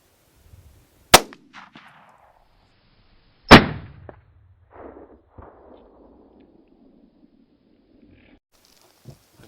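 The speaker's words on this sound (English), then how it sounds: "Shoot him, Chad." Two loud, close rifle shots ring out about two seconds apart during a public-land mule deer hunt in Colorado, each a sharp crack followed by a short rolling echo, with quiet outdoor ambience between.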